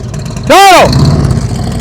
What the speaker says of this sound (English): You heard his throttle go down?